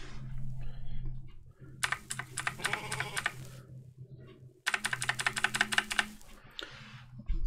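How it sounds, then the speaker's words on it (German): Bursts of rapid typing on a computer keyboard sound close and crisp, two clusters of clattering keystrokes separated by quieter pauses, with a low background hum and no speech. "Siehst du, wie laut ist jetzt eigentlich die Tastatur?"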